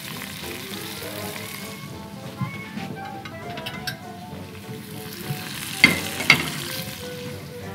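Grated tomato sautés with onion in a hot pan, a moderate steady sizzle broken by a few utensil clinks and scrapes, with two sharper taps late on.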